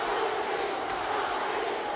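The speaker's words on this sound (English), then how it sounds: "And you can hear the chant in the background." A crowd of more than 21,000 at Madison Square Garden roars and chants for Muhammad Ali during his fight with Joe Frazier, a steady, distant wash of massed voices with no breaks.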